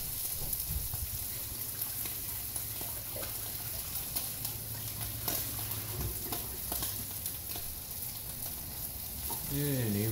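Sockeye salmon fillets crackle and sizzle steadily in a hot pan, a dense continuous frying hiss that holds fairly loud throughout, with a short low voice-like hum near the end.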